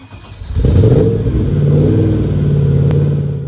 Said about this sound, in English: It's got a thunderous V8 soundtrack